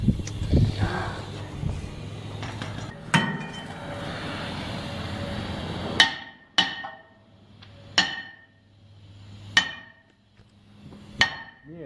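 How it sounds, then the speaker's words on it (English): Hammering during a brake and rotor job on a 2005 Dodge Magnum R/T, loud sharp metallic strikes that ring out, several evenly spaced blows with ringing decay after general shop noise. "Need a bigger hammer."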